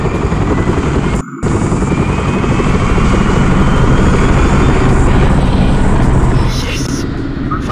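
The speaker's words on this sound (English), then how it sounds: "Helicopter." Helicopter in the video game Phantom Covert Ops, a loud, steady rotor and engine roar that fills the clip, broken by one brief dropout near the start.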